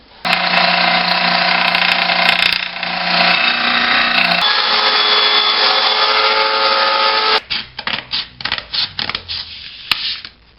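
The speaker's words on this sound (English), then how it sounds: "I'm going to cut out this MDF scrap so that I can use that as a sanding guide." Power tool cutting a piece of MDF scrap into a sanding guide, a loud sustained whine that drops in pitch partway through, then stuttering short bursts before stopping.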